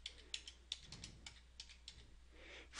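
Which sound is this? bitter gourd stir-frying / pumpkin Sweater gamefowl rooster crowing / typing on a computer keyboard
typing on a computer keyboard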